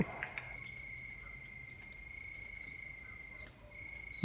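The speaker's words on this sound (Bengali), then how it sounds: "ঝিঝি পোকার শব্দ আর কোথা দিয়ে হয়তো জলের বিন্দু" Crickets chirp steadily in a Bengali animated horror story soundscape, a continuous high trill running throughout with a few faint ticks and clicks, quiet and with no talk.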